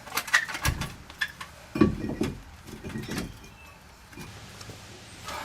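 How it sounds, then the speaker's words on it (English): Dust shield being pulled off an express van's wheel hub during a wheel bearing replacement: a series of close metallic scrapes, knocks and rattles in irregular bursts, quieting toward the end. "I'm just gonna pull the dust shield off of there"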